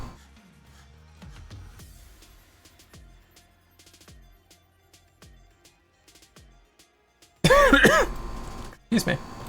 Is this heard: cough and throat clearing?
yes